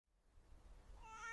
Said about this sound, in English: She meowed softly, hoping the baby bird's family would hear and come to help.